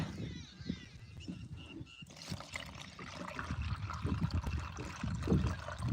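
Water poured into a container to mix pesticide spray for a soybean field, a steady trickling and splashing stream that grows fuller and louder over several seconds outdoors.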